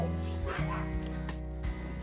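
Dogs at a rescue home yip and whimper during an introduction to a French Bulldog, short high cries and yelps over a tonal hum with muffled voices around.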